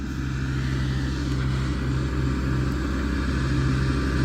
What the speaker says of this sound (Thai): เครื่องฉีดนั่งขับนะคะ เครื่องฉีดนั่งขับเลยจ้ะ แบบนี้เลยนะคะนั่งขับ